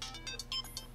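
A mobile phone ringtone plays as a short, bright melodic chime of several rising tones. It is fairly clear and close, with no talking over it, in an indoor scene from a Russian TV melodrama.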